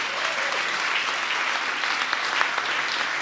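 An audience at a talk event applauds to welcome the next speaker, a dense, even roar of many hands clapping that holds steady throughout at moderate loudness.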